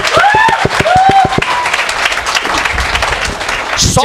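An audience at a business meeting applauds, a burst of many hands clapping that gradually fades, with a brief voice early on.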